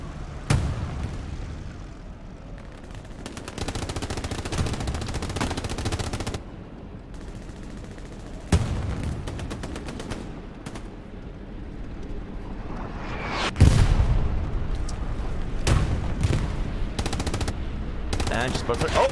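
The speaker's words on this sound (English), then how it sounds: "That might be a bombing run. That sounds heavy." Continuous machine-gun bursts and heavy explosions fill a Hell Let Loose competitive battle, including a heavy bombing run with booming impacts; loud, dense and sustained with brief speech underneath.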